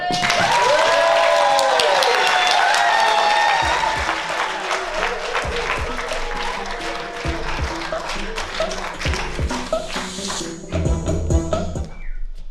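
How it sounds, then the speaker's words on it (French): An audience at a comedy festival in Nice–Cannes bursts into loud, dense clapping that thins into scattered claps after a few seconds, with voices talking over the tail. "Je vous demande de faire un tonnerre d'applaudissements"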